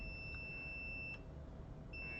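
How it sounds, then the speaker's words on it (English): A multimeter beeps steadily in continuity mode while probing an Xbox One S console board for a dead short, a thin sustained tone that breaks off briefly and resumes near the end, close and fairly quiet over a low hum. "so we're getting a beep"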